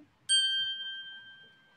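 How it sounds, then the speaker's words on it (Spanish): A single bell tone rings in an English listening exercise, a bright metallic ding that strikes sharply after a quiet moment and then rings on, slowly fading, with no one speaking. "Escuche el timbre primero."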